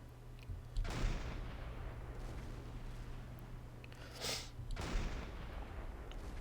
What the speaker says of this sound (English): More explosions. Lots of smoke.